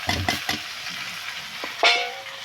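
Cumin, ginger and turmeric powder mix tipped into a hot pan for a village-style desi chicken curry, giving a few quick sizzling bursts and stirring scrapes, then a louder hiss near the end.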